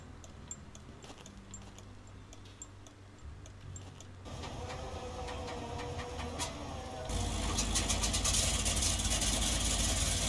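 A StuG tank's engine idles in Tank Mechanic Simulator, a steady low rumble that swells louder partway through as it revs, with faint clicks and ticks near the start.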